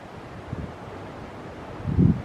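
Wind blowing over the open Rhinogydd hills of Wales beside a puddle, a low, soft rumble with a gust swelling near the end.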